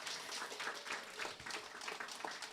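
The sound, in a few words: audience applause at ceremony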